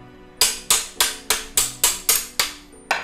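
A Makita 17mm rotary hammer in chisel mode, heard as a loud, close series of about nine sharp, evenly spaced impacts, each strike decaying quickly before the next.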